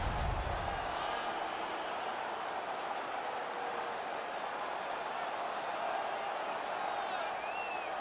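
Arena crowd in the NHL 19 hockey video game roaring after a fight during a Stanley Cup Finals game, a steady, dense wash of cheering that holds at full strength for the whole stretch.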